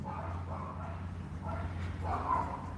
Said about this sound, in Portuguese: É impressionante como esse cachorrinho ele só late quando eu faço live